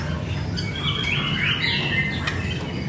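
Magpie-robin (murai batu) songbird singing a run of warbling, tweeting phrases at moderate distance over a steady low background hum.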